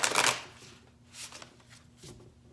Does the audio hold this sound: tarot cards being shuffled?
yes